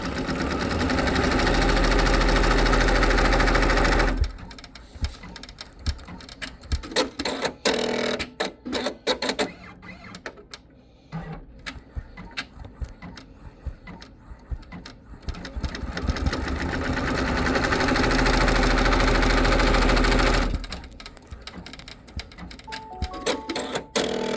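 An embroidery machine runs a tack-down stitch for an in-the-hoop poo bag holder, its steady, loud mechanical whir going for about four seconds, then choppy, intermittent stitching bursts, then a long continuous run before it stops near the end.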